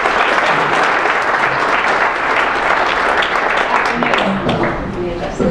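An audience welcomes a speaker to the podium at an academic talk with loud, sustained applause. Many hands clap in a dense, even roar that tapers slightly toward the end.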